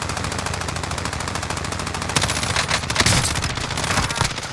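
Rapid machine gun fire in a Call of Duty match, dense sustained bursts with sharper shots cutting through near the end, loud and close throughout.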